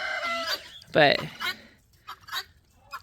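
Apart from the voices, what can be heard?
chickens clucking in coop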